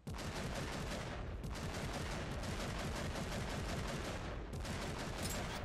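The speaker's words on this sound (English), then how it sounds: "I'm ranged, so I've got the bolt gun, so I can fire." Rapid bolt gun fire in Warhammer 40K: Eternal Crusade, a dense, continuous burst of loud gunshots that hammers on for nearly six seconds with only brief dips, close and without speech.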